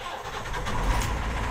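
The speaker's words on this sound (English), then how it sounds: "If the engine's warm, it should just start." A warm boat engine starts up, the motor catching quickly and settling into a steady low rumbling run, fairly loud and close with no talking.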